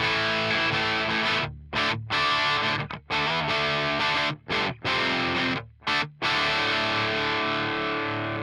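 Electric guitar played through an Axe-Fx III modeling a Peavey 5150 crunch/rhythm green channel at lower gain, mildly distorted chords ringing out with several sharp muted stops between strums.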